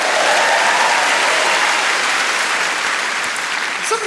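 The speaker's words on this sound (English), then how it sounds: "Round of applause for Fraser" Audience at a live stand-up comedy show bursts into loud, dense applause that carries on steadily and tapers slightly near the end.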